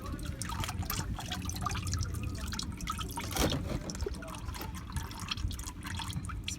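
Hot engine oil drains from a car's engine and drips steadily into a catch can. A continuous liquid trickle and patter plays at close range with no one speaking.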